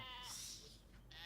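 Sheep bleating in a farm setting, a couple of wavering, nasal bleats close by, the first drawn out and a second starting near the end, with no talk over them.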